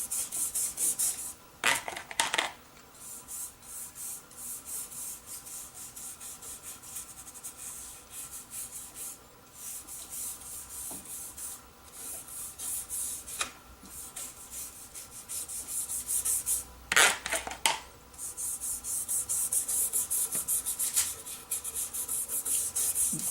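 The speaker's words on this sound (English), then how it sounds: "The brush really makes it easy to spread it evenly and also get to all the nooks and corners" A brush spreads oil over a wooden cricket bat, working around its stickers, in close, steady bristle-rubbing strokes with a soft continuous swish and a few sharper scrubbing bursts.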